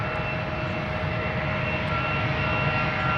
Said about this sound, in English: EasyJet taking off now to Persenchester